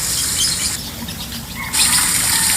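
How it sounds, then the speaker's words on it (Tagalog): Birds chirp and tweet steadily beside a lagoon in a garden, over a constant broadband wash of rushing water, the bright high hiss swelling louder partway through. "ang sarap pakinggan ng mga huni ng ibon"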